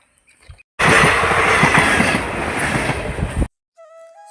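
A train on the tracks bursts in loud and near, rumbling and clattering for about three seconds before cutting off. Quiet, faint sounds frame it on either side.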